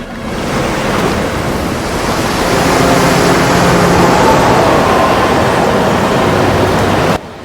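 Sea waves on the Sea of Galilee around a boat, a loud, continuous rushing wash of water and wind that swells slightly midway, then cuts off abruptly near the end.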